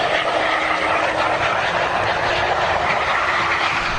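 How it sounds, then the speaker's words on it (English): Broad, steady roar of an airliner heard from inside the cabin as it touches down on the runway at over 140 mph, a constant loud wash of engine and airflow noise with no clear impact thump. "This is the moment of contact on the runway, shot from inside the cabin."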